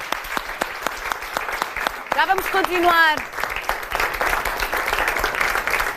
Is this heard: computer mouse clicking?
no